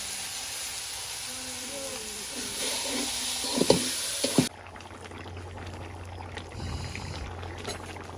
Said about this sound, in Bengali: মাছের মাথাটারে প্রথমে কষায় নিতেছে মশলা দিয়ে